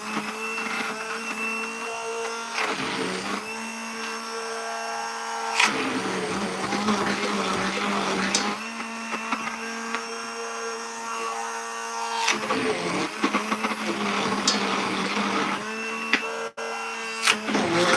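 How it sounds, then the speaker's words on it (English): An immersion blender whirs through protein powder in bursts, a loud whining motor running a few seconds at a time and cutting off between pulses, close up with no talk. "we're gonna put it back into our immersion blender"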